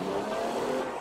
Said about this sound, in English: Yo, they got a Rocket League vehicle.